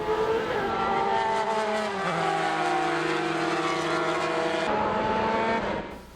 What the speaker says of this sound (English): Formula E cars coming through turn 17.